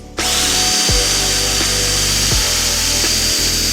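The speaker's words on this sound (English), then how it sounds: "so we'll just extend that little hole, trusty drill" A power drill whirs loudly and steadily up close, briefly dipping in speed a few times as it enlarges an existing hole.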